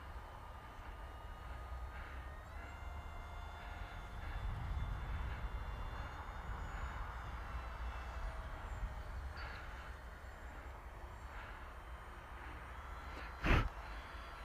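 A Mini Surfer 800 model aircraft cruising at about half throttle, its electric motor giving a faint, steady, distant drone that holds level throughout, with a short sharp click near the end.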